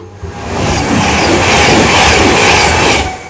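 A train rushes past on the tracks, a loud roar of wheels and rattling that swells quickly, holds, then begins to fade at the end.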